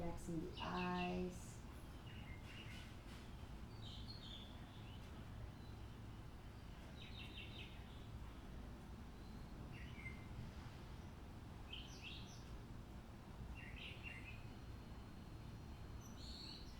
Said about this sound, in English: Listening to these birds chirping in my garden.